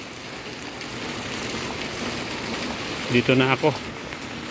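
Steady rain falls outside a dorm during the rainy season, a continuous close hiss that lasts the whole stretch, with a person speaking briefly over it near the end.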